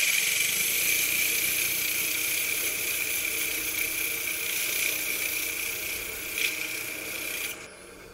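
A wooden napkin ring being sanded on a running wood lathe, with a steady high whirring hiss and motor hum held throughout, then dropping off sharply near the end.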